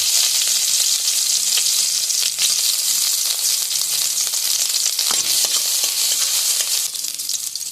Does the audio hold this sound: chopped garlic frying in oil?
yes